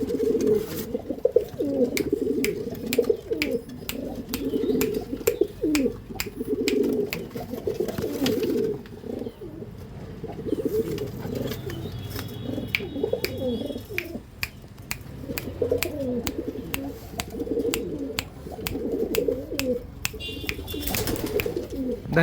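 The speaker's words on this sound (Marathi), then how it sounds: "ह्या क्वालिटीचे कबूतर आपण सगळ्यांना देतोय।" Andhra-line pigeons, including females, cooing in repeated throaty bursts close by, with soft wing and feather flutters and scattered sharp clicks between calls.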